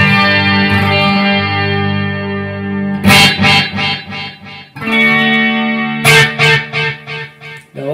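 An electric guitar runs through effects placed in an amplifier's effects loop, giving sustained, chorused and echoing chords that ring out loudly. Several bursts of rhythmic strumming cut in over the held tones.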